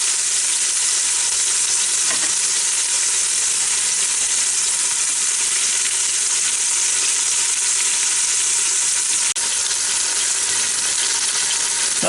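Pot roast sears in an Instant Pot with a loud, steady sizzle that stays close and constant, hissing like hot oil and never letting up.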